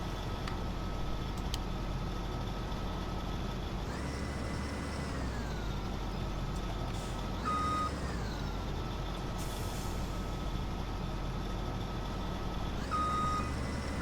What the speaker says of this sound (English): We'll lower the boom.